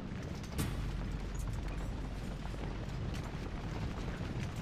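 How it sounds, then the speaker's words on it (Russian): Cannon fire and battle din from the Civil War strategy game Ultimate General: Civil War, heard as a dense, continuous low rumble of artillery with a sharper boom near the start and no voices. "Пушки."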